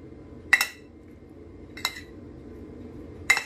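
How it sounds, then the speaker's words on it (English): A spoon clinks against a bowl three separate times while king prawns are stirred in a lime juice marinade, sharp bright taps with quiet gaps between them. "we're going to quickly give this a little stir"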